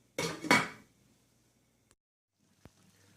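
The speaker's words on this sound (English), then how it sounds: "I'm going to put the lid on it, and it'll come to a boil faster." A lid set on a pot of pasta water makes a quick double metallic clatter up close, then near silence with a couple of faint ticks.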